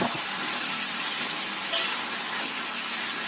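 Green vegetables with fried shrimp paste sizzle in a pan as they are stirred, a steady dense hiss with a faint scrape partway through and no voices.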